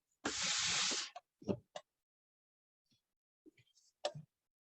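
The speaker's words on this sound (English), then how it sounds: "I could turn it on so it would automatically give it little short bursts of steam." A steam iron releases a loud hissing burst of steam, followed by a few shorter puffs and clicks, with brief speech fragments in between.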